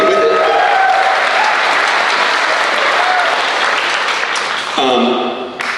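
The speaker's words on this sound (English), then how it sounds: "a big round of applause for him" Audience applause at a school district spring band concert, loud sustained clapping filling the hall, with a voice speaking briefly as it fades near the end.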